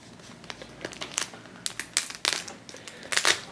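Tough plastic toy packaging crinkled and crackled while being pulled open, close sharp irregular crackles in bursts, growing louder toward the end, with no talking.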